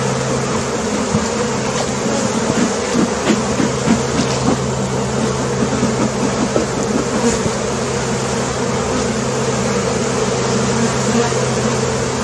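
Italian honeybees swarm loudly around an opened hive during a July inspection, a dense continuous buzz with a low steady drone beneath, close and unbroken throughout.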